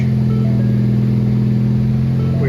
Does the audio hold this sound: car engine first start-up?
yes